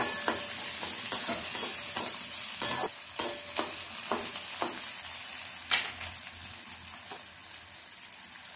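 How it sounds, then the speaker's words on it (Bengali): Chopped onion frying in a pan, a constant crackling sizzle broken by sharp, regular knocks and scrapes of a spatula stirring, close and fairly loud with no talk. "পেঁয়াজটাকে বেশ 2 মিনিট লাল লাল করে নাড়াচাড়া করে ভাজা ভাজা করে নিচ্ছি।"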